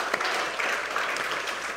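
A church congregation claps steadily for mothers at a Mother's Day service, a dense, even patter of many hands filling the room for under two seconds.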